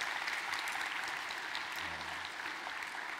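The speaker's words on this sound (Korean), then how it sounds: "우리 박수로 환영하겠습니다" Church congregation clapping steadily through a Sunday service, a dense, even wash of applause heard from a distance and fairly faint, with no talk over it.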